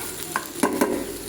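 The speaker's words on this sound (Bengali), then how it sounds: "এখন আমার ভাজিটা হচ্ছে, এখানে দেখেন ভাজিটা হয়ে যাচ্ছে" Vegetable bhaji frying in a pan, a soft sizzle broken by three quick scraping stirs of a spatula, close and alone.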